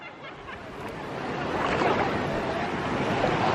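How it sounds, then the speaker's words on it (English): Ocean surf washes onto Winifred Beach in Jamaica, a broad rushing wash that swells louder over a few seconds, mixed with wind buffeting the microphone. "We're at Winifred Beach."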